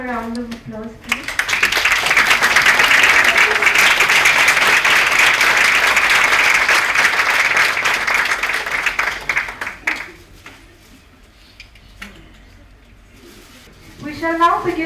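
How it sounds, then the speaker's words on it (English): Ceremony audience at a valedictory function breaking into sustained applause, a dense crowd of clapping hands for about nine seconds that fades out, with a voice speaking before and after. "Please have a round of applause, please."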